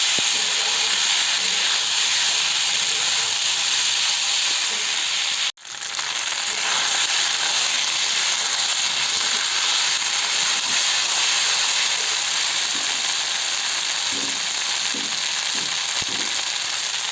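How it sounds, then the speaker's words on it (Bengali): Pasta stirred in a hot pan, a loud continuous hiss of frying steam with a brief sharp dropout midway and faint spoon movements near the end. "পাস্তাটা দিয়ে বেশ ভালো করে একটু নাড়াচাড়া করে নেবো"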